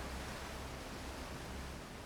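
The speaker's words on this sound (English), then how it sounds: "There's a waterfall here?" Steady rushing of falling water from a waterfall in the video game Outer Wilds, a soft, even wash of noise with no talk over it.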